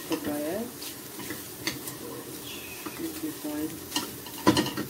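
Prawns cook in a pan seasoned with a pinch of white pepper, giving quiet stirring scrapes and light utensil clicks over a faint sizzle, with a brief word of speech.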